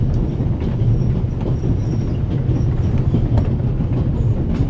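Train rolling on rails through the mountains in the video game The Raven, a steady loud rumble with a faint repeating clack of wheels and no voices.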